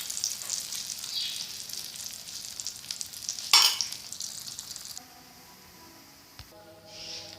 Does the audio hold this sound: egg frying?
yes